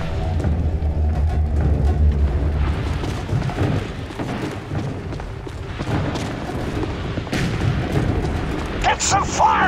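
Heavy gunfire and booming explosions from a combat scene in the video game The Bureau: XCOM Declassified, a dense, continuous barrage with voices shouting beneath it.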